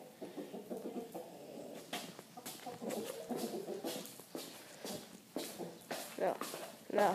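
A rooster in a litter box gives repeated clucks and short calls, fairly faint and close, mixed with a person talking and moving about.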